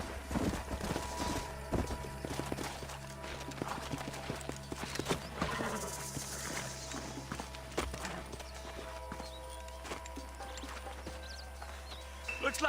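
Horses trot steadily in Red Dead Redemption, a regular clip-clop of hooves on the ground with an occasional whinny. The hoofbeats run continuously and fairly close, with no talking.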